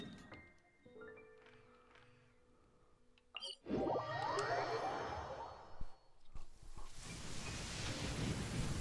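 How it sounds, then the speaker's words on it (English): Rain in Genshin Impact rises from quiet ambience into a steady, dense hiss of rainfall, with a brief low rumble that may be distant thunder. "It's raining."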